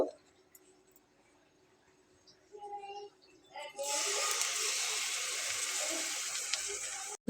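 Cabbage chops dropped into hot oil over a medium flame, with a few small sizzles first, then a steady loud frying hiss that holds for several seconds.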